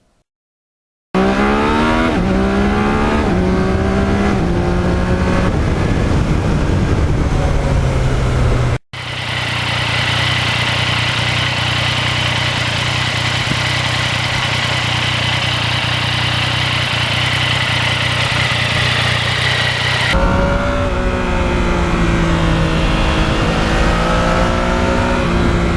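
A 2020 Yamaha MT-09 motorcycle engine runs loud and close on a hot summer ride, rising and falling through revs with a brief cut near the middle, then holding a steady drone before shifting pitch again.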